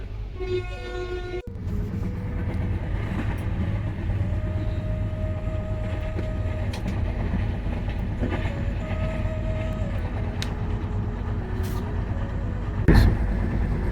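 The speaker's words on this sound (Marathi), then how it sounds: "ट्रेन सुटली" A train rolls along steadily, a continuous heavy rumble with rhythmic wheel clatter and a sustained whining tone rising above it, close and loud, with no talking.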